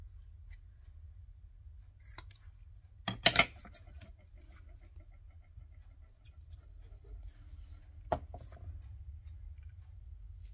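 Scissors cut through card for steampunk graffiti-style greeting cards: a quick cluster of crisp snips, then one more isolated snip later, quiet and close over a low steady hum, with no talking.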